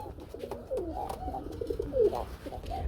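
A pair of black pigeons at a pigeon sale coo in repeated low, throaty rolls, close and clear, several calls overlapping across the moment with no talk.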